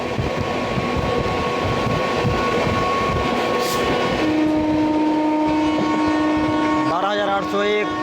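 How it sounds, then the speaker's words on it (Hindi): Puri Anand Vihar Purushottam Express passing close by, a continuous loud rumble of rolling wheels with a sustained horn tone building through the second half and wavering near the end. "सामने से आ रही है पुरी आनंद विहार पुरुषोत्तम एक्सप्रेस"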